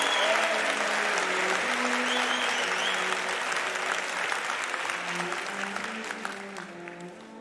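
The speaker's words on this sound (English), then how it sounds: "Please join me in a round of applause to the graduates." Sustained applause from an audience greeting engineering graduates at a university commemoration ceremony, a broad steady wash of many hands that slowly thins toward the end, with faint voices and tones beneath.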